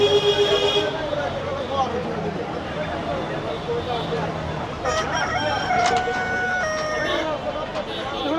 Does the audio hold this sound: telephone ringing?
no